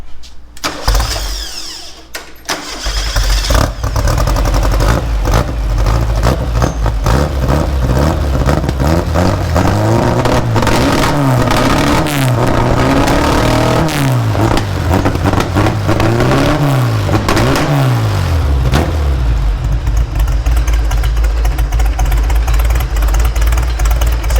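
A Porsche 550 Spyder kit car engine cranks, catches and runs loud and close, rising and falling through repeated revs over a steady idle.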